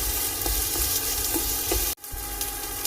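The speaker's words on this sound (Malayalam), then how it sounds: "ഇത് നന്നായിട്ടൊന്ന് വഴന്ന് വരണം. ഒത്തിരി കളർ മാറുമല്ല, എന്നാലും ഒന്ന് വഴന്ന് ആ സവാളയുടെ പച്ചച്ചോവയൊന്ന് മാറി കിട്ടണം." Sliced onions sautéing in a hot pan, a steady broadband sizzle running throughout with a few soft stirring scrapes and a brief dropout near the middle.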